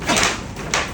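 A bad, sticking shed door dragged and pushed closed in two scraping, rattling bursts about half a second apart, fairly near and with no talk over it.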